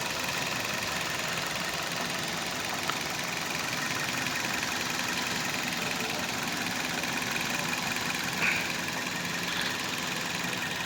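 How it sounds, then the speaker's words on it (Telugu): A 2018 Maruti Baleno Delta petrol car idles with a steady, quiet, even engine hum and faint vibration, unchanging throughout and heard nearby with no voices. "ఇంజిన్ అనేది స్టార్టింగ్లో ఉంది, చూడవచ్చు మీరు, కానీ సౌండ్లెస్."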